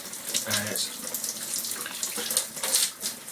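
Water runs steadily from a tap into a sink or shower, a continuous close splashing hiss that carries through the whole stretch with small surges and no speech.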